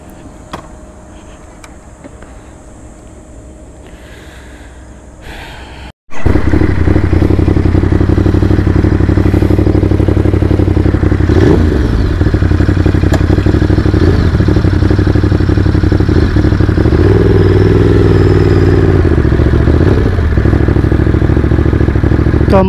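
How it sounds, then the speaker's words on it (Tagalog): A Ducati Monster motorcycle engine on a dealer test ride: quiet surroundings, a sharp break, then a loud, steady, close engine rumble that holds for the rest of the clip. "This is the Ducati Monster."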